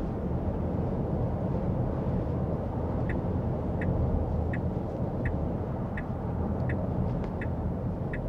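A Tesla Model Y RWD (Juniper facelift) accelerates smoothly under full pedal, heard as a constant low road and cabin rumble with faint, evenly spaced ticks above it and no speech.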